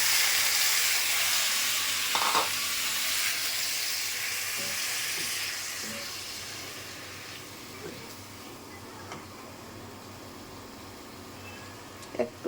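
Tomatoes fry for chutney in a hot pan with a broad steady sizzle, loudest at first and easing off, with a few soft stirring knocks and clinks.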